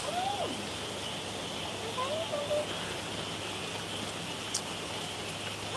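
Steady rain falling on a roof, a soft continuous hiss at low volume, with a few faint bird chirps over it and a low hum underneath.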